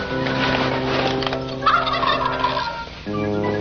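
A turkey gobbles loudly and close, a rapid rattling call repeated over a few seconds with no voices.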